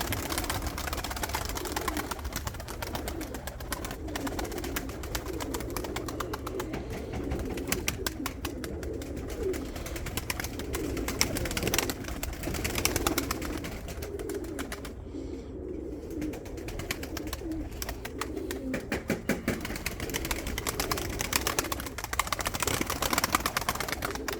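Several pigeons coo continuously at close range in a loft, their overlapping calls filling the space, with occasional rustles and no speech.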